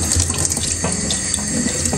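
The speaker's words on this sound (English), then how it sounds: "I'm just trying to run water over it." Tap water running steadily over washed ingredients for okro soup, a continuous close splashing stream in a kitchen sink with no talk.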